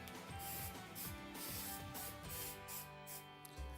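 Spray paint can hissing as it coats a pipe, a continuous faint spray with slight pulsing over a low mechanical hum.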